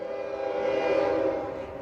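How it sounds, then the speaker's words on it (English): A freight train, either a rock runner or a coal train, arrives with a steady, tonal horn-like drone mixed with rumbling. The sound swells toward the middle and then eases off slightly. "Train's here."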